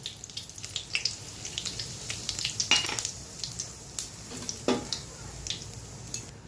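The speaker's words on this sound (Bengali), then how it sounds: "তেল গরম হয়ে গেছে, দিয়ে দিব ফোড়ন, দিয়ে দিব শুকনো লঙ্কা, তেজপাতা আর গোটা জিরে" Dry red chillies, bay leaf and whole cumin hit hot kachchi ghani mustard oil in a pan, giving a close, steady sizzle broken by sharp crackles and pops.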